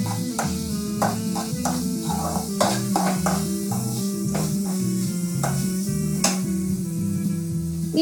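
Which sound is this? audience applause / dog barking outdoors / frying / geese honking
frying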